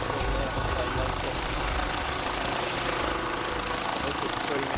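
A helicopter flies near a conference venue, its broadband rotor and engine roar steady and loud, with someone talking over it throughout.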